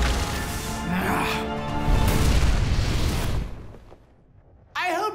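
A cartoon magic spell blast called Crystal Obliteral erupts as a loud booming crash with a crackling, shimmering tail that fades out, followed by a brief burst of a voice.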